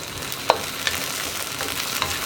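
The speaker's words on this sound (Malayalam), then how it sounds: "ഇനി സോസുകളുടെ ആ ഒരു റോ ടേസ്റ്റ് മാറി വരുന്നത് വരെ നമ്മൾ ഇളക്കി കൊടുക്കുക." Gobi Manchurian sauces being stirred in a frying pan, a soft steady sizzle with a few light clicks of a spoon against the pan, close and fairly quiet.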